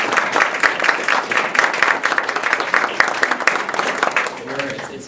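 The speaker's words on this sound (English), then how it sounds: "give you a round of applause" Steady applause from an audience at a university speech competition, dense clapping throughout, fairly loud, with a voice briefly audible near the end.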